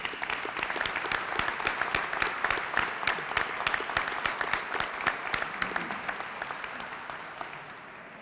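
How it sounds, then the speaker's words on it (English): Crowd applause at an outdoor Veterans Day ceremony in Cleveland for a North Olmsted High School student, many hands clapping in a steady, crisp patter at a distance, fading slightly at the end. "could we have a round of applause for Miss Barth from North Olmsted High School?"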